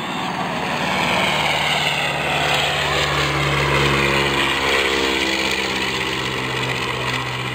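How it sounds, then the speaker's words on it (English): German-built Fieseler Storch propeller plane passing low overhead, a continuous loud droning engine and propeller hum that swells and holds through the whole stretch, with no talking. "Now this aircraft is an actual German-produced torch."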